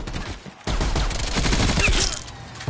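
Gunfire in Call of Duty Black Ops Cold War multiplayer, a dense burst of rapid shots starting abruptly and rattling on steadily for over two seconds, loud and close.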